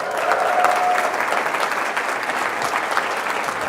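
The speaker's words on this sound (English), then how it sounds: "Let's give them a big round of applause." Steady audience applause fills a university convocation hall, a dense, even wash of many hands clapping at moderate loudness with no talk over it.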